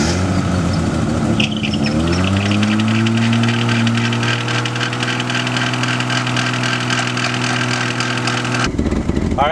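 A 1987 BMW engine idles loudly and steadily, with a whining, squealing belt riding over the rough running note, ending in an abrupt change near the close.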